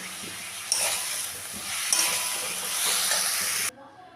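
Small shrimp and boiled figs fry in a pan, giving a steady close sizzle with brief stirring scrapes before the sound cuts off near the end.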